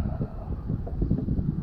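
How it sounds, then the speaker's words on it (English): Wind gusting over a lake while boating, a low steady rumble buffeting the microphone throughout with no voices. "the winds have picked up, boom, just like that"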